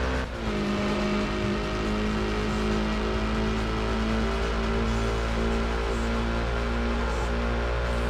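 A Nissan Skyline race car engine in the PS1 racing game High Stakes drones steadily and loudly throughout, a continuous low hum with no gaps and no talking.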